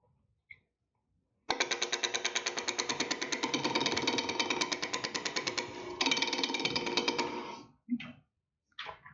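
Wood lathe spinning a wooden spatula blank at low speed while a skew chisel cuts: a rapid, rhythmic chattering buzz runs steadily for about six seconds, then stops abruptly, followed by a couple of short knocks.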